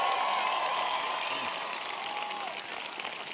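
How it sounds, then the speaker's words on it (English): An audience at a public event bursts into a round of applause with cheering, loud at first and slowly fading, while a voice murmurs over it. "I was going to say let's give him a round of applause,"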